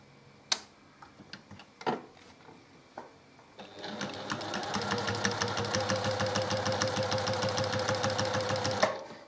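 A sewing machine stitches a seam on a small quilt block. A few light handling clicks come first, then the motor runs in a steady, close, rapid stitching rhythm for about five seconds before stopping.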